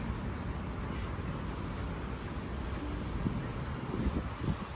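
Strong wind buffets the microphone in a constant broadband roar, gusting louder toward the end.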